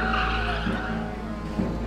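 A car skids and screeches off the road during a police chase in the GTA 5 video game, a steady loud tire squeal over engine roar lasting the whole moment with no talk.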